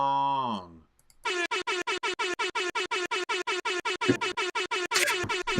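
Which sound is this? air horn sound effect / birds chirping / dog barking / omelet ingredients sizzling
air horn sound effect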